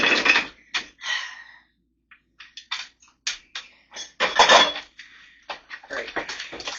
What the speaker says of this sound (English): you want to cut your plums